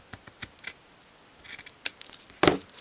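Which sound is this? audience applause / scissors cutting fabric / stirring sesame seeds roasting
scissors cutting fabric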